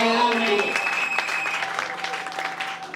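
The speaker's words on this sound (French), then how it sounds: "Est-ce que tu peux acclamer pour Jésus?" A church congregation applauding and cheering for Jesus, a dense wash of claps with raised voices and a sustained tone over it, steady and fairly loud throughout.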